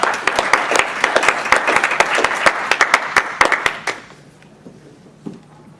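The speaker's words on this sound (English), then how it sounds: "Let's give a round of applause for Sora." An audience claps steadily for about four seconds at an improv class at a fan convention, dense overlapping claps that taper off quickly into near silence with one last stray clap.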